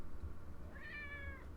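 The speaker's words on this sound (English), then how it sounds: "my cat came back up to talk about that too" A house cat gives one short rising meow, close by, over a low background hum.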